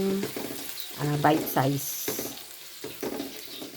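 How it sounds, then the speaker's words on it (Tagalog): Sliced pork liempo sizzles and fries in a pan, with a steady crackle and the clatter of stirring, while a person talks over it in the foreground. "Hintayin natin siya ma-prito hanggang mag golden brown."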